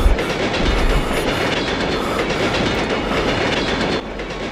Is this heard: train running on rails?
yes